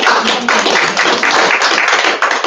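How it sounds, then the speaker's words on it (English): Audience at a school board meeting giving a round of applause: dense, steady clapping from many people filling the room, loud and continuous with no talk over it. "you deserve a round of applause for that"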